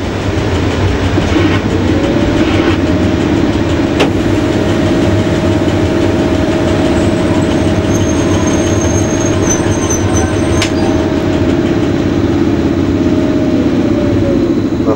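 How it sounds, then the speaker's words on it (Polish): A passing train at a Polish station, its wheels squealing in a sustained high whine over a loud, constant rumble of rolling cars, close by and steady for fifteen seconds, with no talk. "No pociąg się to się nazywa."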